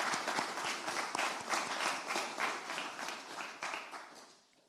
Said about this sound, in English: So I'd like to give them a little round of applause.